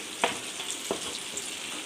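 Butter melting in a pan in place of oil, a soft, faint sizzle with a couple of brief scraping stirs, heard alone and fairly close.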